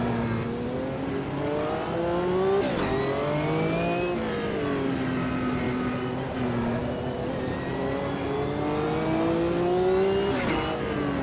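GT race cars in the Automobilista 2 sim, a World Sportscar Championship event, scream at high revs, the pitch climbing and dropping through gear changes, with brief tire squeal and other cars passing close by, loud and continuous.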